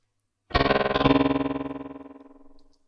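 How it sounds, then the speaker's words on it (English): A single low, deep cello note, pitch-shifted down with modulation delay, swells in suddenly and wobbles with a fast pulsing warble, then slowly fades out over two seconds. "this is the sound pitch shifted down with a modulation delay on top of it"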